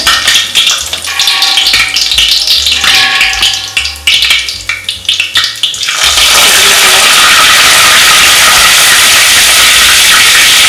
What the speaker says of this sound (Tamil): எண்ணெய் போட்ட உடனே சீரகம், காஞ்ச மிளகாய் 4 அப்படியே போடுறேன்.